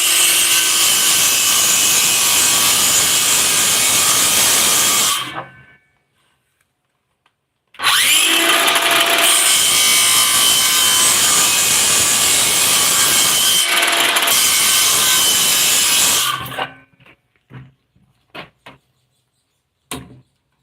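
A power saw rips through pallet wood in two long, loud, steady passes separated by a short pause, then winds down into a few scattered knocks and clatters.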